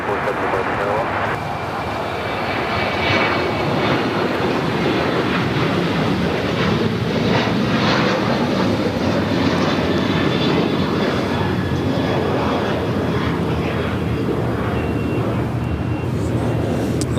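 A Lufthansa Boeing 747 backtracks along runway 24 Left on the north side at LAX, a steady loud engine whine and rumble that continues throughout, with a person talking over it.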